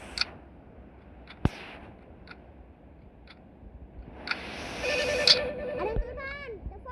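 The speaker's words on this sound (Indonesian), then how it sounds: "Ada yang telepon. Angkat siapa nih?" A telephone rings inside a Roblox horror game, its electronic tone rising over a noisy background after a few short ticks and a sharp click, while players talk throughout.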